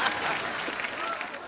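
A studio audience gives a brief, dense burst of clapping and cheering at a comedy show, steady and fairly loud.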